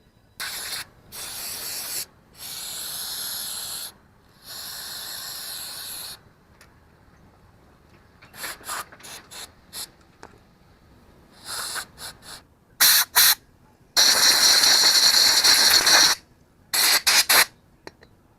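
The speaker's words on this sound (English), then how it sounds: "shoot it again with some carburetor cleaner, blow it out real good before we put it back together" Carburetor cleaner sprayed and compressed air blown through the passages of a 1962 Johnson 18 hp outboard carburetor, heard as repeated hissing bursts of varying length, some short and sharp, a longer loud blast near the end, separated by quiet gaps.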